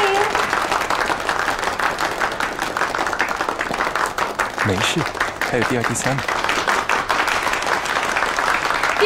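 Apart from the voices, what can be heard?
applause for the design competition winner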